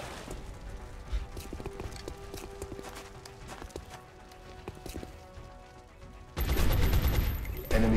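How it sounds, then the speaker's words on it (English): Enemy gunfire in the video game XCOM: Enemy Within, rapid crackling bursts of shots and clattering impacts over a steady background, with a louder, denser burst of firing near the end. "Hostile fire at my position."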